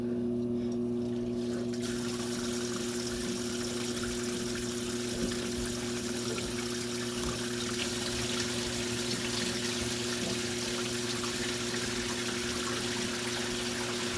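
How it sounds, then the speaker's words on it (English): Leftover water drains steadily out of a freshly cut household plumbing pipe that runs to an outdoor spigot, a constant low rushing trickle with a steady hum beneath it and no talking. "the water you're seeing come through is just the water that's in the pipe from here to the spigot outside"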